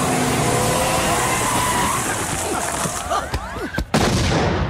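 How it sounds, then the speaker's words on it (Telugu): A bomb blast in a Telugu comedy film scene: a dense, roaring rush of noise fills the scene before a sharp, loud burst cracks out near the end. "బాంబు పేలింది."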